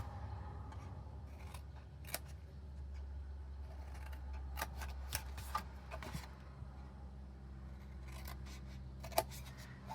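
Scissors snip through a piece of cardstock for a paper craft box, a series of sharp, close cuts spaced irregularly over a low, steady background hum, with no talking.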